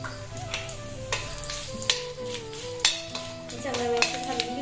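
Mustard seeds, fennel and whole spices crackle in hot oil for a Maharashtrian kadhi. Sharp pops and spits come over a continuous sizzle while someone talks throughout.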